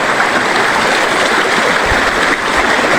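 Rushing water of the Asam Falls stream, a steady broadband roar that stays close and continuous throughout with no voices over it.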